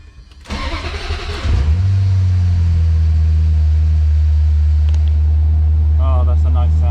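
A Ferrari engine cranks and catches, rising quickly into a loud rev, then settles into a strong, steady idle close by, with a few faint knocks at the end.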